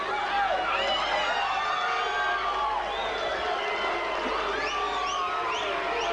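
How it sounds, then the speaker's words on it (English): Boxing arena crowd jeering and shouting in disapproval after a fighter is hit while down, a continuous dense roar of many voices with whoops and calls rising and falling over six seconds. "The crowd don't like it."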